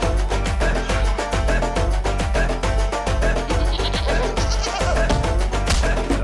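A goat bleats as a film sound effect, bursting out over loud rhythmic trailer music with a pounding beat, the bleats rising briefly above the dense backing.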